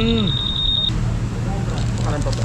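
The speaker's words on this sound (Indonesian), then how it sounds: "Dalawang beep, sir, it means patay na yung alarm." A Honda PCX 160 scooter alarm sounds a quick train of sharp, high electronic beeps lasting under a second, then cuts off, leaving steady background noise and some voices.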